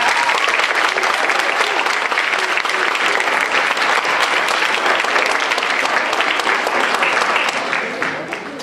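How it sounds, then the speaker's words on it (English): A school capstone presentation audience gives a big round of applause for a presenter, a dense steady wash of many hands clapping at even loudness that tapers slightly at the end. "Can we have one more big round of applause for Mr. Simpson?"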